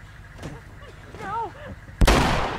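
Automated turret opening fire in The Last of Us, a sudden loud burst of broadband gunfire arriving abruptly after a quieter stretch of muffled game sounds and brief voice-like tones.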